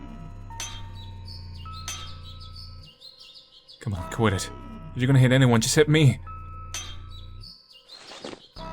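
In the horror video game Angels of Death, the family's pet bird chirps in short, bright bursts amid clanks and thuds, while a person speaks and pleads over it.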